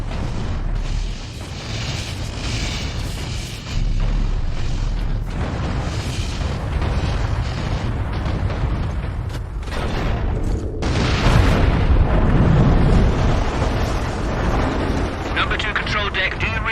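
A cannon shot blasts through gates in the Warhammer Space Marine video game, heavy booming rumble and crashing debris continuing under dramatic voices and sound effects.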